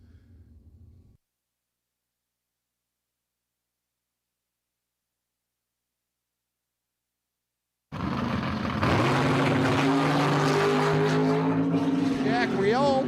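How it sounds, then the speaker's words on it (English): A 1969 Chevelle doing a burnout in the burnout box at a drag strip: a brief low rumble, a long silence, then a sudden loud, sustained engine roar with a tire-spinning hiss that holds steady to the end. "Dean Ice O'Brien in his 69 Chevelle in the burnout box."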